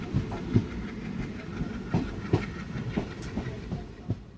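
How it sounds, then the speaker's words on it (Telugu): A train moving along rails, heard as a steady rumble with rhythmic clickety-clack wheel knocks and faint hiss, used as a sound effect in a spoken crime story. It plays alone, moderately loud, with no speech. "ఆ సంఘటనలతో నిమిత్తం లేనట్టు రైలు కదిలింది"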